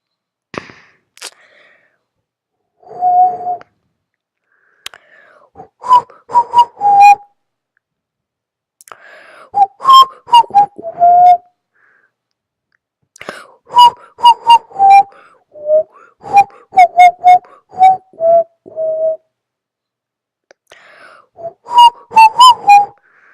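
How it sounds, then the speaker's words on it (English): A person whistles a tune in short, bouncy phrases with pauses between them, close and clear against silence, with a few sharp clicks. "I don't know why I'm whistling"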